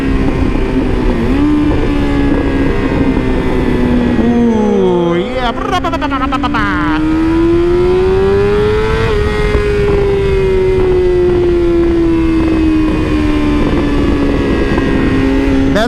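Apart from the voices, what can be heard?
BMW S1000RR motorcycle full exhaust pops and bangs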